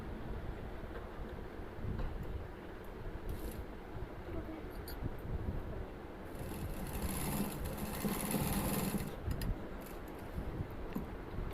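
A domestic sewing machine stitches around the center of a fabric bow for an A-line frock, a steady mechanical whir running throughout at moderate level with a brief louder burst midway, no talking.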